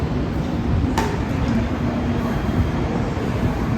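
A train on a Coimbatore to Rajasthan route makes a steady, loud, continuous rumble at a railway station, with one brief sharp click early on.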